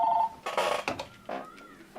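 Telephone going off in a talk-show studio: a brief electronic tone followed by several short bursts of phone signal sounds, fairly faint and close.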